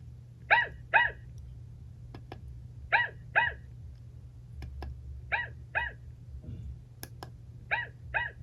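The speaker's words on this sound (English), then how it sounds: "When you turn her on, she'll bark first, and then here's the volume." A Chongker Percy interactive robot dog toy lets out recorded barks, paired yips repeated in a steady pattern of four quick doubles, close and clear over a low hum, with faint clicks in between.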